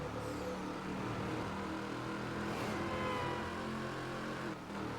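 Engines of racing cars in a video game drone and rev steadily throughout, with a constant loud whine and no one talking over it.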